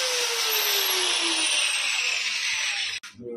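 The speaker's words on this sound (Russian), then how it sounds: "Это болгарка называется? То, что у вас в руках? Это болгарка." A high, whining angle grinder cuts continuously, loud and steady, its pitch slowly falling, then stopping abruptly near the end.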